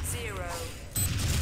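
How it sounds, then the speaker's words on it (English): A bomb detonates in the video game Atom Smasher 1972: War on Khallos, a sudden loud crashing blast that cuts in over ongoing game sound and lingers as a dense rumbling roar. "Peabody felt that explosion."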